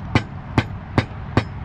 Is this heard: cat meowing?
no